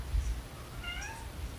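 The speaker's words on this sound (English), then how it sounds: "Our cats are going nuts, and it is such a distraction for me." A house cat meows once with a short, rising and falling call, faint against steady room noise.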